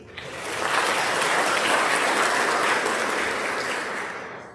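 A room full of people claps for a scholarship recipient at a scholarship night, the applause rising quickly, holding steady and easing off at the end.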